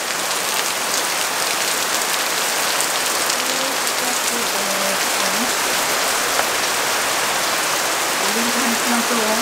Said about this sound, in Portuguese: Eita, com tanta água, minha gente. Olha só. Que chuva linda.